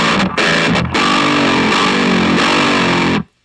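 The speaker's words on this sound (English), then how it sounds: "this amp definitely comes alive and it nails you that sound" Loud, distorted electric guitar chords through an EVH 5150 III Lunchbox tube amp in full-power mode, ringing out steadily for a few seconds, with a brief choppy start, then cutting off abruptly.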